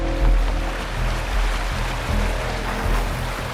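A waterfall in the Wuthering Waves video game gives a steady, loud, broadband rush of falling water throughout, with no speech.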